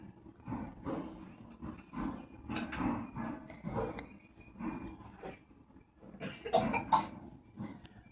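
Repeated rough, growling coughs in the video game Scary Teacher, coming in several bursts across the stretch with a louder cluster near the end.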